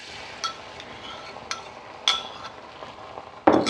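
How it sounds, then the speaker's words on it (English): An egg frying in a pan for kimbap, a faint soft sizzle under scattered utensil clinks and taps, quiet and close, ending with a louder clatter. "So now I'm going to go ahead and put the second egg in."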